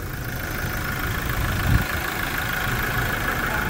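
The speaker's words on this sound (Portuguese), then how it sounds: "dando a partida no motor para conferir o nível" A 2021 Toyota Hilux engine runs steadily at idle after starting, giving a close, continuous mid-low drone with a brief bump in the middle and no talk over it.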